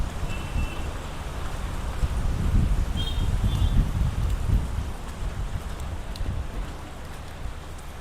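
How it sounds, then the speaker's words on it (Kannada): Heavy rain pours down in a steady, dense hiss, near and continuous, with a low rumbling wash underneath and no voices. "ಮೊಕ್ಕಳಾರಿ ಮಳೆ ಗೈಸ್, ಮೊಕ್ಕಳಾರಿ ಮಳೆ"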